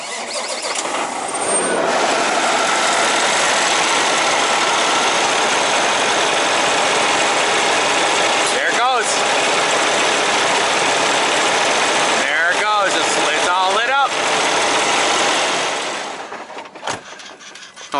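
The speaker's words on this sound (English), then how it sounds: "Let's start the truck up" A truck engine cranks over and settles into a loud, steady idle that runs nearly the whole time before cutting off, with voices talking over it.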